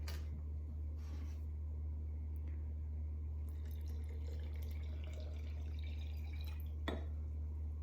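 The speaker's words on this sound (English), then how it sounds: "And then I'm going to fill the rest up with water." Water trickles and drips as it is poured to fill up a container during a preschool Montessori activity at home, a soft, steady liquid sound over a constant low hum, with no talking.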